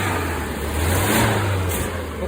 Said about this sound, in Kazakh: қозғалтқыш кішкене ойнап тұр, бүйтіп пақылдап, бұл себебі ауа сорып тұр